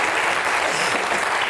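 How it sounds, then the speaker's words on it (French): A studio audience applauds, with a dense, steady burst of clapping throughout the short stretch. "Alors, t'applaudis ?"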